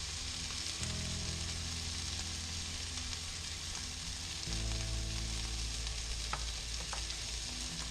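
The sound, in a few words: shaggy mane mushrooms frying and browning in pan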